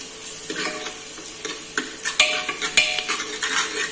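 Ginger garlic paste being stirred into onions frying for mutton, with a steady sizzle under scraping spoon strokes and several sharp metallic clinks against the pan.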